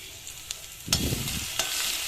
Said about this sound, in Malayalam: ആ എണ്ണയിലേക്ക് നമ്മൾ ഇഞ്ചി വെളുത്തുള്ളി ചതച്ച് വെച്ചത് ആദ്യം ഇടണം.